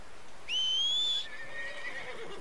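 A horse whinnies once in Red Dead Redemption 2, a clear, loud rising-then-falling neigh standing alone against quiet background.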